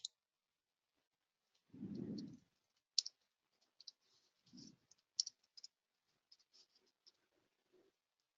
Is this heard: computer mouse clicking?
yes